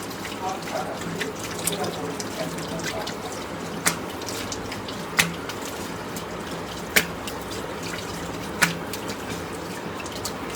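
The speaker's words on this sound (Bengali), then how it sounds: "ওকে নাও এখন ধুয়ে ফেলি।" Running tap water splashes steadily while someone rinses off skin care product, close and continuous, with a few louder drips and splashes breaking through the flow.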